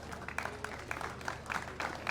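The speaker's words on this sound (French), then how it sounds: "les applaudissements avec de plus en plus de monde autour de la piste" Spectators applaud around a downhill mountain bike track at an urban race, a distant, faint patter of scattered claps with sharper individual hits.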